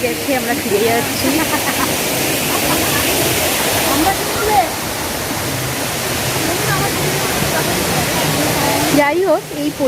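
A waterfall at Daringbadi roars in a loud, steady, unbroken wash of noise from start to finish, with people's voices talking over it.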